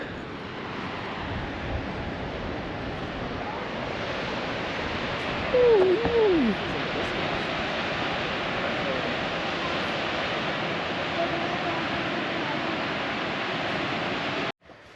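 Steady, dense roar of rushing water at Fall Creek Falls, heard from the overlook, fills the whole stretch, a constant broadband wash, with a brief squeaky chirp partway through.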